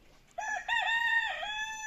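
A rooster crows loudly and close by, one long drawn-out call that swells and holds before trailing off, with no other voices.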